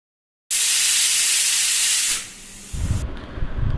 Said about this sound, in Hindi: तब तक मेरा तहरी सीटी लगाएगा